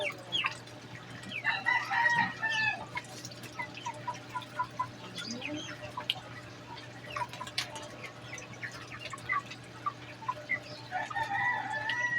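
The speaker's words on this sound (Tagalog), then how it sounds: "Pati ang mga manok, pakainin na rin." Chickens cluck and squawk over a steady hum, with a rooster crowing briefly; busy poultry-yard chatter continues throughout.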